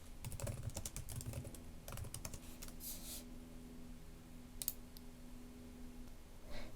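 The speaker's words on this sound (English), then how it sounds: "just start typing the name of your landing page" Quick bursts of close computer keyboard typing, clattery key clicks in short runs separated by pauses, with a low steady hum underneath.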